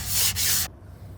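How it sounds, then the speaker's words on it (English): A damp rag rubs across painted wood in two steady scrubbing strokes with a brief break between, lifting stencil paint out of the grain, close and fairly loud, then it goes quiet. "if I take like a damp rag, I can get it off out of the grain here"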